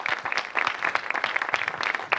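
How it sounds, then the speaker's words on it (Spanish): A small audience at a talk gives a short round of applause for a guest, with individual claps distinct in an uneven, moderately close patter. "un aplauso a Manuel Tallafé, por favor."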